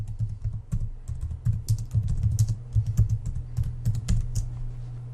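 Rapid clicking of computer keyboard keys as a name is typed, a close, continuous run of keystrokes over a steady low hum.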